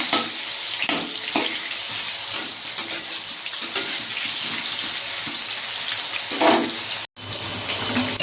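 Potatoes fried in a pan with salt and turmeric until reddish, producing a steady, hissing sizzle with a few scraping bumps and a brief cut near the end.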